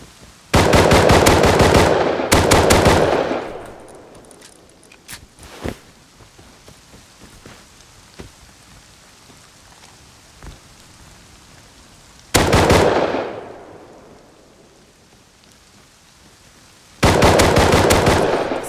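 Bursts of M92 machine gun fire in the survival game Rust, three loud rapid-fire volleys separated by quieter stretches with a few scattered shots, each burst trailing off into a fading echo.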